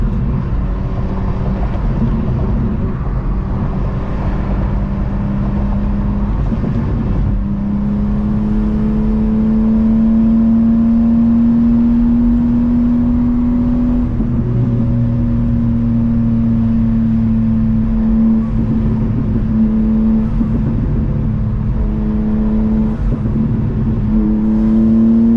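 BMW M2 turbo engine pulling hard through the gears on a night drive, a loud steady rising drone with shifts breaking the pitch, continuous from inside the car.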